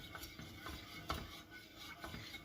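Béchamel sauce stirred in a pot, a quiet, repetitive scraping and swishing of a utensil in a rhythmic pattern, faint and close, with no voices.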